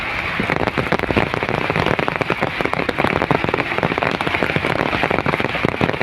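Heavy rain pours onto a village field of yardlong beans, a dense, loud, unbroken patter of drops striking leaves and ground close by, with no talking.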